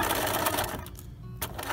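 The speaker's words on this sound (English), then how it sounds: "Okay, it's time to take it to the sewing machine." A sewing machine runs steadily, stitching a quarter-inch seam on a port pillow, with a brief dip in the motor's whir partway through before it picks up again. It is close and continuous, with no talking.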